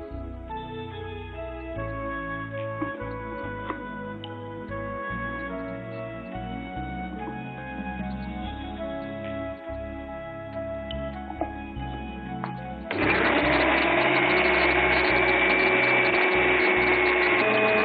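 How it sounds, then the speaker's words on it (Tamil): A kitchen mixer grinding pineapple and banana for payasam, a steady motorised whir that runs continuously, then swells louder and rougher near the end, with no talking. "இப்போ நம்ம அன்னாசி பழத்தையும் வாழைப்பழத்தையும் இதே மாதிரி அரைச்சு எடுத்துடலாம்."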